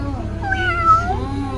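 A cat gives a single drawn-out meow indoors at a home studio, clear and fairly close over a low steady background hum.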